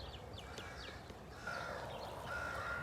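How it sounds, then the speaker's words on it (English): Crows caw repeatedly at an outdoor campsite, several harsh calls spaced out at middle distance over a low background rumble, with a thin steady tone joining partway through. "Oh, we got lots of crows over here."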